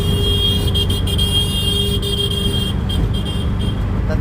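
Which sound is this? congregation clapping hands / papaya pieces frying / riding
riding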